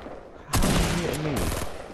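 A single loud video game gunshot rings out abruptly after a quiet lead-in, followed by a sustained echoing tail and a brief burst of game sound, while a player's voice is faintly present.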